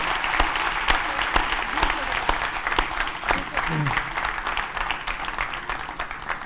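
A university audience gives a sustained round of applause for the UN Secretary-General, dense even clapping from many people continuing steadily, with faint voices briefly audible beneath it.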